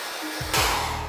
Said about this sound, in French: Je vais sécher le tout au sèche-cheveux